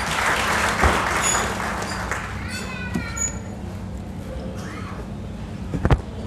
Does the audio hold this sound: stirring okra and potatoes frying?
no